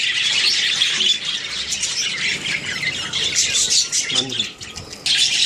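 Budgies squawk and chirp in shrill bursts as one is caught from a colony, close and busy, with someone talking over them.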